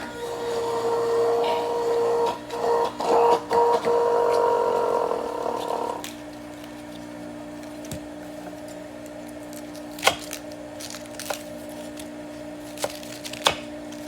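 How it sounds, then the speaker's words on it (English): Celery is cut with a serrated cutter while being prepared for juicing, making a few seconds of grinding, squishing crunches up close that give way to quieter handling clicks and taps. "I'm using a serrated cutter, although both cutters work fabulously"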